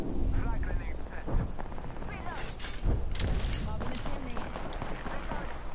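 Grenade explosions and bursts of gunfire ring out in a first-person shooter, dense and loud, overlapping with players shouting and talking.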